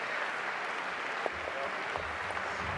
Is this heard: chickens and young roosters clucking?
no